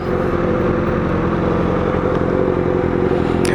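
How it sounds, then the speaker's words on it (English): A Suzuki Gixxer 750 sport motorcycle engine running loud and close, a dense steady rumbling drone with no pauses, heard alone with no talking. "That is a Gixxer 750. It's a quick little bike. Loud as shit."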